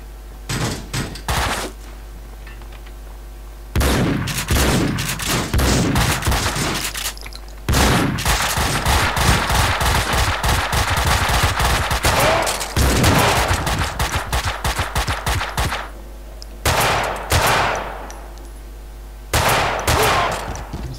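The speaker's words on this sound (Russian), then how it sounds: "Только звук выстрелов сносится" Machine-gun fire in the video game Max Payne 2, loud sustained bursts of rapid shots broken by short pauses and scattered single shots, with no talking.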